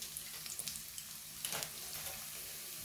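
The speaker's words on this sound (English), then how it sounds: "Just gonna fry this lightly until it changes colour slightly and softens a little" Onions frying in hot mustard oil, a soft steady sizzle with faint stirring scrapes, close but quiet, with no voices.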